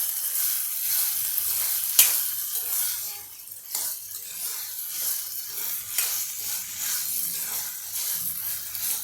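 Dal being stirred in a hot pan, with steady sizzling and frying hiss and occasional spoon scrapes and clinks against the metal, close and continuous with no talk.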